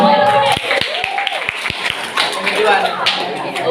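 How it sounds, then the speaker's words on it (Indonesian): Students on a school trip to the Samudra Pasai Islamic Museum give a handful of sharp, separate claps during a quiz game, with voices and room chatter around them. "Oke, tepuk tangan."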